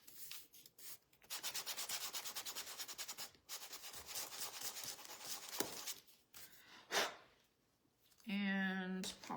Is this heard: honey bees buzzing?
no